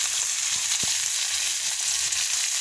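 Tomatoes fry in hot cooking oil with a constant, close hissing sizzle and one brief knock partway through; nobody speaks.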